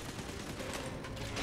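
Turret gunfire in Bioshock 2, a steady, distant-sounding rattle of rapid shots that runs briefly and without pause, with no talking.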